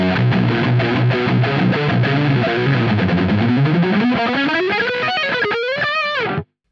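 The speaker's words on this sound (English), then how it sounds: "we have like a really thick sounding distortion, a bit more in the fuzz kind of things, and not so much like a metal sound" Electric guitar played through a Boss Mega Distortion pedal set at 3 o'clock, giving a thick, fuzzy, loud distorted tone as chords give way to a rising bent line before cutting off abruptly.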